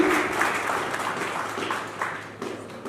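Audience applause in a hall at a book release event during a fresher party, a steady wash of clapping from a crowd that holds moderately loud and slowly tapers.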